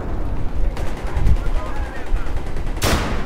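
In Battlefield 3 multiplayer, a grenade launcher fires and loud gunfire follows in quick bursts, with a sharp blast near the end and a voice speaking over the shooting.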